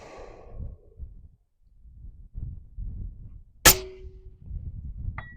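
A suppressed rifle fires a single sharp shot from a braked suppressor at a steel plate. A faint metallic ring of the hit follows about a second and a half later, over low rustling background noise.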